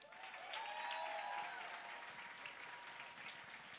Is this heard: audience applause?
yes